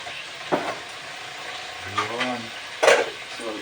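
Chicken pieces browning in a hot pan for tinolang manok sizzle softly and steadily, with a few stirring scrapes and a voice talking over the frying.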